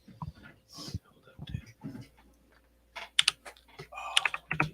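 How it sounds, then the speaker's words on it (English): Clacky typing on a computer keyboard, bursts of quick keystrokes mixed with talking and murmured voices, loudest near the end. "When I think of keyboard sounds, that's what I hear."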